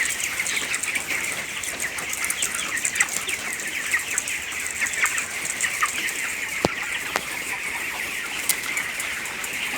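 25-day-old chickens cluck and chirp steadily in an open house of 3000 birds with nipple drinkers, a busy flock close by with occasional wing flaps and sharp clicks over a constant background hum.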